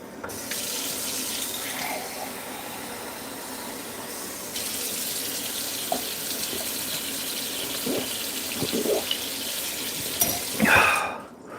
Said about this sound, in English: Get another glass of water.